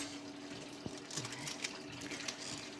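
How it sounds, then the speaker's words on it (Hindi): Water runs steadily from a household tap while containers are filled. The gush is constant and moderately faint, with a few small knocks and splashes. "आजकल हमारे पानी भी देखो काफ़ी ज़्यादा आ रहा है"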